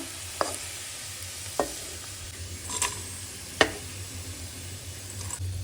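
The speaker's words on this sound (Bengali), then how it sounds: "এখন এতে দিব হচ্ছে পেঁয়াজ মরিচ আর হচ্ছে রসুন কুচি একসাথে এখন ভেজে নেব" Onion, chilli and chopped garlic fry in hot oil with a steady close sizzle, broken by four sharp spoon knocks and stirring scrapes spaced about a second apart.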